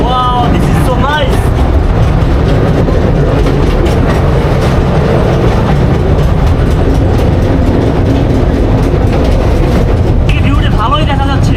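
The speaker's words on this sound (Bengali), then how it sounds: "আপনারা 100 টাকার টিকিটে স্কাই ট্রেনে উঠতে পারবেন নরসিংদী ড্রিম হলিডে পার্কে। আমি এখন ট্রেনের ভিতরে আছি।" A sky train rolls along at Dream Holiday Park in Narsingdi, its loud continuous rumble and clatter filling the ride from start to finish, with voices briefly heard at the start and end.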